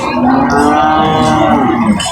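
A Holstein Friesian heifer at a cattle market lows in a long, steady moo with rich harmonics, loud and close, filling the whole moment.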